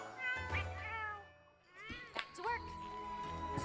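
Several meows from a cartoonish cat in the video game Monster Hunter Rise, a drawn-out mew followed by shorter, rising calls, close and clear with game music underneath.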